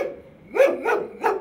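A guard dog at a building under restoration barks three times in a steady rhythm, loud and close, with no voices around it.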